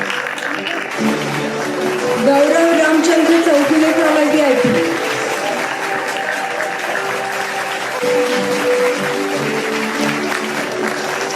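An audience at an LTIPS Pune and LTIP Kharghar alumni meet claps in a steady round of applause while an announcer reads out names over the clapping.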